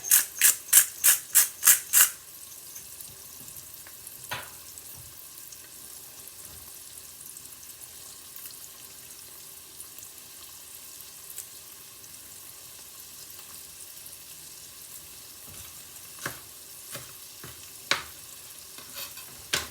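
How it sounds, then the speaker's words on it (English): Italian Sunday sauce sautés in a pan with a quiet, continuous sizzle, opened by a quick run of six sharp taps and punctuated later by a few scattered knocks of utensils. "Let us saute beautifully"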